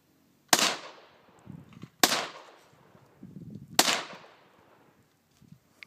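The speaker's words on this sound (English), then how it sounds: "Nice shooting." Three sharp gunshots aimed at shooting targets on an off-road trip at Sycamore Creek crack out about every one and a half seconds, each loud and close, with a trailing echo and faint voices murmuring between shots.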